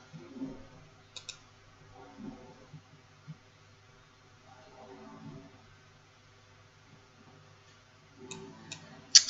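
Computer mouse clicks while working in Illustrator, a few faint sharp clicks scattered across a quiet background, with a quick cluster of clicks near the end.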